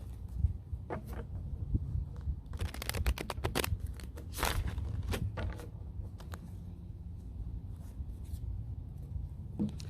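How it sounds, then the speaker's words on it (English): A deck of tarot cards is shuffled and cut close by, giving dense bursts of riffling and sliding card scrapes over a steady low room hum, with no talk. "I'm just going to do a brief shuffle and cut"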